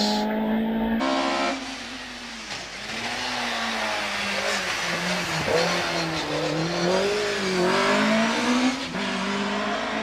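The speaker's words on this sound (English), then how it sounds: "up comes Ben Fisher once again in the Subaru Impreza WRX" A Subaru Impreza WRX races up a hill climb course, its engine revving hard through gear changes and rising and falling pitch, loud and close throughout with tire noise and no talk.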